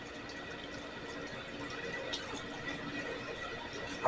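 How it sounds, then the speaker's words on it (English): Beer is poured over well-seasoned beef for a Flemish carbonnade, a steady fizzing, splashing stream that runs unbroken for several seconds with no talking. "pour it as much as I can all over the beef"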